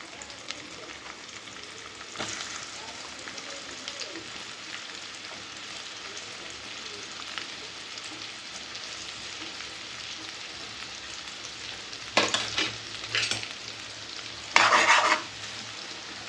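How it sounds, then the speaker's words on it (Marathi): Finely chopped onion, with cumin, fries on a high flame in a large pan of pav bhaji for ten to twelve people. A constant soft sizzle runs underneath, and louder bursts of spoon stirring and scraping come toward the end. "गॅस फास्ट करायचा, जेणेकरून कांदा व्यवस्थित परतला जाईल."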